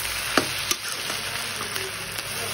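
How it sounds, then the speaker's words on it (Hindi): Onions fry in a pan for a chicken dish, giving a steady broad sizzle with a few sharp clinks and taps of a utensil, close by and with no talk. "ये फ्राई हो रहा है"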